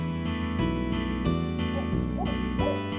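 A barred owl calling among trees in Kansas, a series of deep rhythmic hoots with barking, doglike notes, repeated steadily at moderate loudness with no talk.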